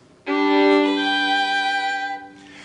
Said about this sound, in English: Jonathan, we're practicing slow chords with 4 voices